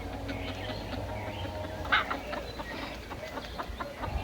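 Hens cluck nearby in a rural yard, a soft scattered chorus of fowl calls with one sharper squawk near the middle over a low background hum.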